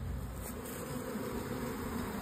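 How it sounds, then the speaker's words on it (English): Live honeybees buzzing around hive colonies outdoors on a warm spring day in middle Tennessee, a steady dense drone of many insects at close range with no voices. "it's springtime, I've got live bees"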